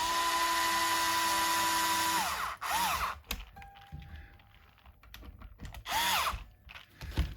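A power drill drives the last screw into a guitar tuning machine on a cheap DIY guitar kit. A steady high motor whine holds for two seconds, then stops, followed by short bursts of whirring and ratcheting clicks.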